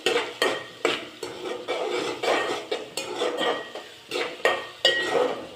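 Onions fried in a pan with cumin seeds and mustard seeds while being stirred, with repeated scraping and clinking of a utensil against the pan over a steady sizzle, close and fairly loud, no talking.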